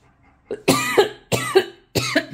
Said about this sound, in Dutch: lichte hoestaanval.